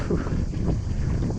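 Headwind buffeting a microphone during a bike ride at a pumptrack, a steady low rumbling roar that fills the whole moment, close and loud.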